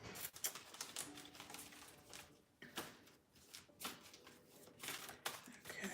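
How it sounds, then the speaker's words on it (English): Tarot cards shuffled in quick riffling bursts with soft papery taps, close and fairly quiet, with no voice over them. "let me shuffle my next set of cards"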